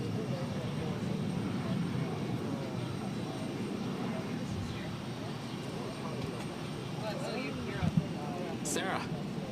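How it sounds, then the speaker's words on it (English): An American Airlines Airbus A319 takes off at Boston Logan, a faint, steady engine rumble heard at a distance beneath nearby voices talking. "This is American Airlines 1776 taking off to Philadelphia on the A319"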